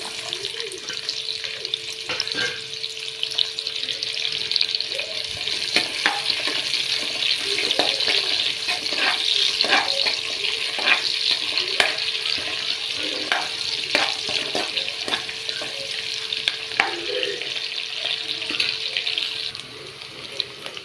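Onion and green chilies frying in hot oil in a pan, a steady close sizzle lasting throughout with repeated soft clicks and scrapes of a spoon stirring, no voices.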